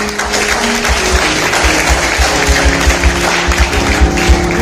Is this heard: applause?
yes